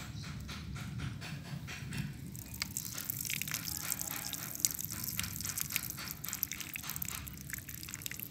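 Water poured from above onto the soil of a potted aglaonema plant, a continuous close splashing and trickling with rhythmic gurgling as it drains through the pot.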